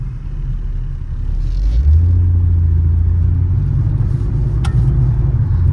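A 2003 Mercedes C320 coupe on bald tires drives with a steady low engine rumble that swells as it accelerates and then holds a loud, even drone, heard close with no talking.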